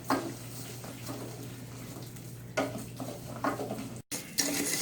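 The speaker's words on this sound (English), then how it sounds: "We're going to fry this rice until golden brown." Rice fries in a pot with a soft steady sizzle, broken by a few scraping stirs and clinks of a utensil against the pan.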